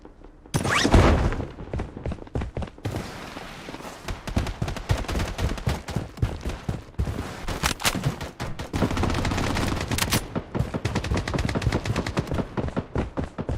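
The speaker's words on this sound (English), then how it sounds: "Taking fire! Enemy spotted!" Gunfire from the video game Blood Strike: dense, loud bursts of rapid shots, with sharp single cracks and near-continuous automatic fire throughout.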